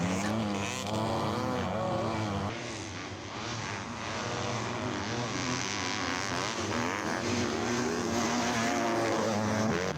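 Modded 250F motocross bikes racing on a dirt track at a motocross event, a dense, continuous high-revving engine drone with shifting pitch as bikes pass, heard from a distance and fairly steady throughout.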